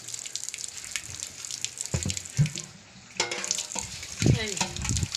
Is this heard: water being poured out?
yes